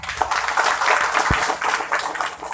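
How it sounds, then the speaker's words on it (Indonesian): An audience at an Islamic dhikr gathering for Syekh Abdul Qodir Al Jaelani breaks into steady, dense applause that fills the whole moment at moderate loudness, with one sharp thump partway through. "Tepuk tangan semuanya."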